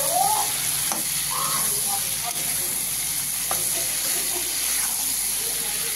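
Pumpkin slices frying in hilsa fish oil, with a continuous steady sizzle and hiss close up and occasional light stirring clicks and scrapes throughout.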